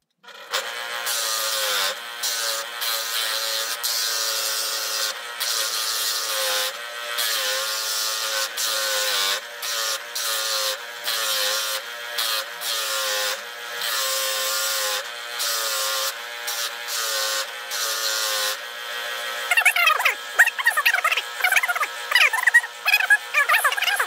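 A homemade electric wood sander works over a piece of wood with a steady, loud harmonic motor drone broken by short gaps. Toward the end it turns into rougher, scratchier grinding.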